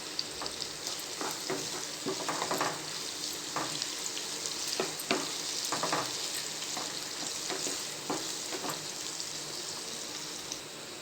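Curry leaves crackle and sizzle in hot oil in a pan for jackfruit curry, a dense frying hiss punctuated by frequent sharp pops and spatters, with no voices.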